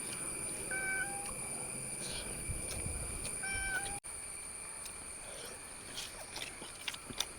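A cat gives two short meows a few seconds apart, close by, over a quiet room with light clicks and rustling, while a Kerala-style anchovy dish is being cooked nearby.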